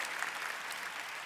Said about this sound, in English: I'm going to clap for you, Troy.